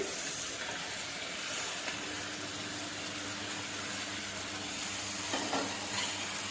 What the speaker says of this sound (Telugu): ఒక 5-6 టమాటాలు, 2 ఉల్లిపాయలు, ఒక 2 మిర్చి కట్ చేసుకొని ఇలా వేగిన ప్రాన్స్లో వేసేసుకోవాలి.